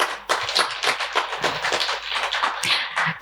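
Steady, continuous clapping from a conference audience at a sustainability summit, dense and lively throughout with no talking over it.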